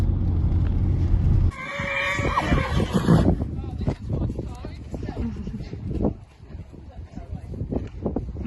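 A horse neighing loudly nearby at a dressage outing, one long shrill whinny over gusting wind noise, followed by a rider talking.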